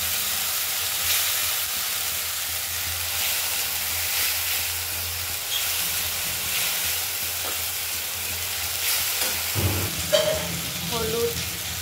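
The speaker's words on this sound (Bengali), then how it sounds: "ভালো করে নেড়ে নিই।" Eight or nine fish pieces are stirred with chili paste in a hot pan, producing a loud, even frying hiss with soft scraping and a few bumps toward the end.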